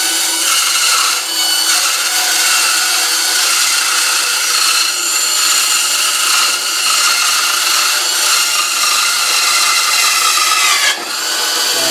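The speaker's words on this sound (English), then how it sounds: "I'm cutting a little bit outside the line." A power saw cuts wood along a marked line for a whirligig goose, a loud, close, continuous buzzing whine that holds steady for the whole stretch with no talking.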